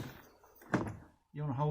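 An interior door panel on a 2014 Nissan Altima is lifted off, giving a single muffled plastic thunk and rattle, followed by a brief pause and then a voice speaking up close.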